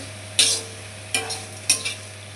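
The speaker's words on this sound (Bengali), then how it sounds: "আলু ভাজিয়ে দিয়ে দিই।" Potatoes frying with spices in a pan are stirred in three short bursts, each a scraping sizzle, near and distinct against a quiet steady hum, with no talking.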